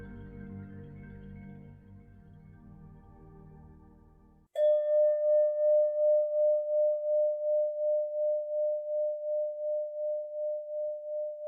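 A closing bell ends a meditation session: one clear struck tone rings out after a low humming drone stops, then sustains with a gently pulsing, slowly fading resonance for several seconds.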